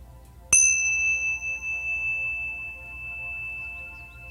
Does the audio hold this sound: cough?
no